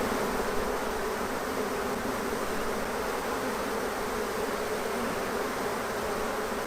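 Honey bees swarm around an open hive during frame inspection, a dense, continuous buzzing hum held at a steady level close to the listener.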